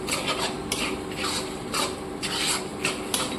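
Spice paste with chopped tomato is stirred and sautéed in a pan for a goat meat and potato curry, giving a steady scraping, rubbing sizzle with repeated spatula strokes and no voices.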